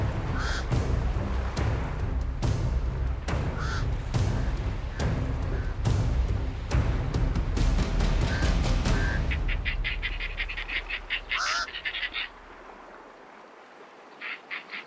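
Crows and hooded vultures squabble over a carcass on a beach, with a dense, loud stretch of overlapping calls and squawks that thins out into scattered, sharper caws and a few distant cries near the end.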